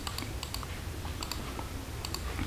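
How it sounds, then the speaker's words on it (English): Numbers are typed into an Excel spreadsheet on a computer keyboard: a quiet series of crisp, irregularly spaced key clicks over faint background hiss. "Let me type the number"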